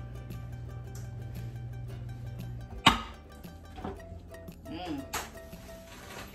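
Metal cake baking pans clank and rattle as they are handled, with one sharp loud bang partway through, then lighter clinks and scrapes; no talking.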